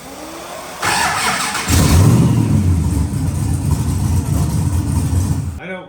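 A sand car engine cranks and turns over loudly and close by, a continuous rough, churning drone that does not catch, with people talking around it.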